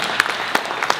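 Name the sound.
audience applause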